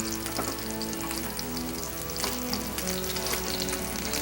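Trout fillets fry in hot oil in a pan, giving a steady, dense sizzle with small pops and crackles that carries on without pause from start to finish.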